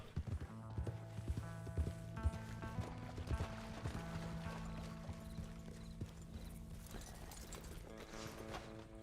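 Horse hooves clip-clop at a steady ridden pace in the Red Dead Redemption 2 game world, quiet and even, with tonal game music and a brief whinny blended underneath.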